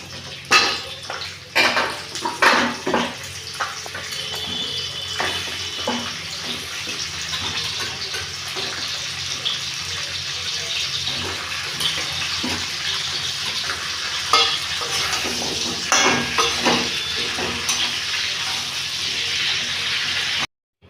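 Vegetables, including potatoes, fry in hot oil in a wok for a traditional Bengali shukto, giving a steady, close sizzle throughout with occasional louder stirring scrapes and no talk.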